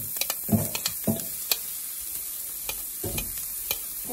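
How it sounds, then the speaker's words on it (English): Onions and garlic frying with bacon in a Saladmaster pan give a continuous close sizzle, broken by several soft knocks and scrapes of stirring, most of them in the first half. "So now we are going to be adding the onions and garlics."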